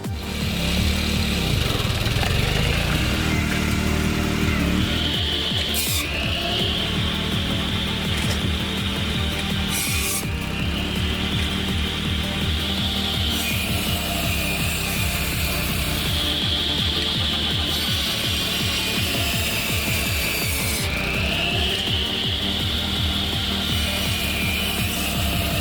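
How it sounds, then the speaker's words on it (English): A homemade backyard woodcutting machine saws through mahogany, giving a loud, continuous grinding and rasping drone with a repeated rising whine as the blade bites into the wood. "this man went and built himself a woodcutter right out of his own backyard"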